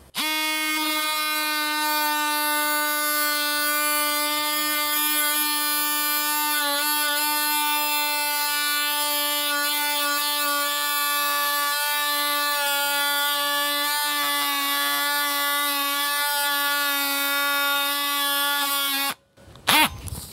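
An oscillating saw fitted with a diamond blade cuts cement siding, giving a loud, steady, high-pitched buzzing whine that holds unbroken for nearly twenty seconds before stopping abruptly, followed by a brief clunk.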